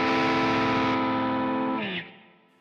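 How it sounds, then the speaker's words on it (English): An electric guitar played live through a Nux Lacerate clean boost pedal rings out with a sustained chord, loud and close, before decaying and cutting off near the end. "The last thing on the Quartermaster is the Lacerate by Nux up here. It's my solo boost."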